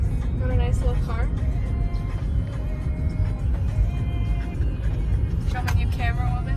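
A small rental car driving in Portugal, with a steady low engine and road rumble beneath a person talking throughout.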